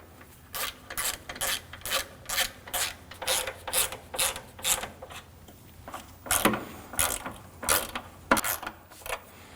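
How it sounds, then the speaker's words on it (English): A ratchet wrench tightens the bracket nuts on a 2013-2015 Subaru XV Crosstrek, with about fifteen fast, evenly spaced clicking bursts filling the clip, close and fairly loud, without any talking. "Hold the bracket up while you tighten down the nuts."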